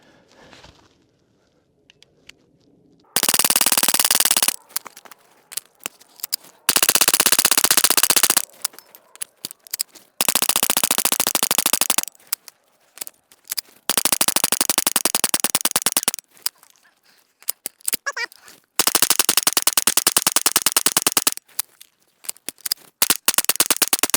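Suppressed .22 rifle fitted with a HuxWrx Flow 22Ti and firing CCI rounds, loud rapid strings of shots in several bursts separated by short quiet pauses, with no talk.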